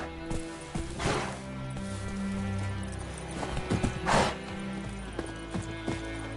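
Horse hooves clip-clopping steadily at a trot in The Witcher 3, close and clear, with a brief neigh amid the rhythmic beats.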